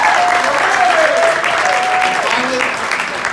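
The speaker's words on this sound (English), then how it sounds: "let's have a little round of applause for Tony." A staff gathering breaks into a round of applause, dense, steady clapping from many hands that holds evenly throughout, with voices calling out over it.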